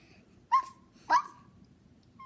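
A voice imitates a dog barking with two short, sharp yips in quick succession, close and fairly soft, with near silence around them.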